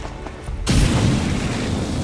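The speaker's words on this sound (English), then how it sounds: "I think that the flamethrower is the safer alternative" A flamethrower attack in XCOM 2 erupts suddenly after a short quiet moment, becoming a loud, sustained roaring whoosh that carries on to the end.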